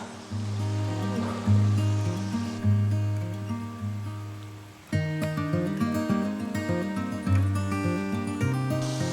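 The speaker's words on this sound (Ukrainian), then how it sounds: "Вода натуральна, карпатська джерельна тече і набирається." Natural spring water runs from a source in the Carpathian mountains on a hiking trail, a steady close gurgling flow with bubbly splashing that goes on throughout and changes partway. Nobody speaks.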